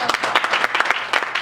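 A church congregation at a Sunday service applauds and acclaims in a fast, dense burst of clapping mixed with voices, loud and close throughout.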